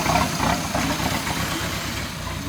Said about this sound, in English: Alright, so it runs pretty good. It's idling great.